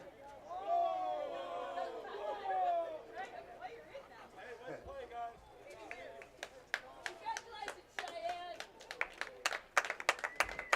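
After a state tournament championship game, with cheerful voices and chatter in the foreground, a scattered round of crowd clapping builds toward the end, sharp individual claps distinct and fairly close.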